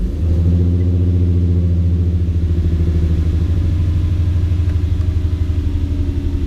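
An Infiniti G35 coupe engine runs at a steady idle, loud and close, with a deep, even, pulsing rumble that holds without break and has no talk over it.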